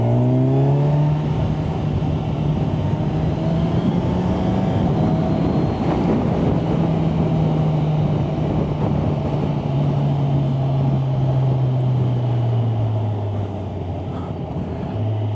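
A motorcycle engine pulls away and accelerates steadily, its low drone rising smoothly in pitch, loud and close throughout.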